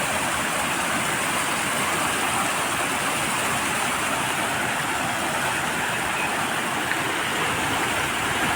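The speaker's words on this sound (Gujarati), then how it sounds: "જો પુલમાંથી તો આટલું જાય છે હજી તો પાણી." River water rushes under a village bridge in a steady, unbroken roar that stays close and fairly loud throughout, with no voices.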